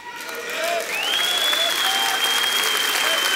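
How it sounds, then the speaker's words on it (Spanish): A congregation at a religious gathering claps loudly and steadily, the dense applause swelling and holding for several seconds, with a faint voice and a ringing tone beneath. "Fuerte aplauso."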